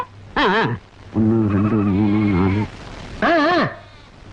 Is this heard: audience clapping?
no